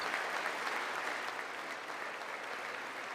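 Steady applause fills a large chamber during the State of the Union address, a dense, even wash of clapping from a crowd that holds at the same level throughout without pause.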